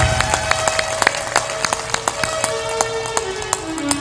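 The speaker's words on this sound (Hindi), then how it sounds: "जोर से ताली बजाओ।" Scattered handclaps from an audience at a spiritual discourse by Sant Asang Dev, sharp and irregular, rising over a steady hum of room noise.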